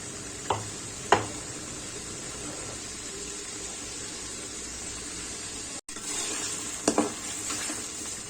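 Chopped tomato is stirred into onions frying in a pan for shol fish dopiaze. A soft, steady sizzle runs underneath, broken by a few sharp spoon clinks and scrapes.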